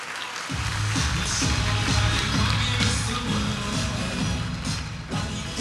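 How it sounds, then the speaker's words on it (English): Audience at the Boise Metro Chamber annual gala applauding Idaho entrepreneurs, a dense wash of clapping with shuffling and murmur underneath, steady for several seconds. "let's give them all another big round of applause"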